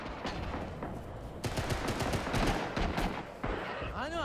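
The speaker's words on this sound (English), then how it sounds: "they're shooting artillery at the right side" Artillery and gunfire in a video game battle, with repeated sharp blasts and rapid bursts packed densely over a rumbling background, loud and close.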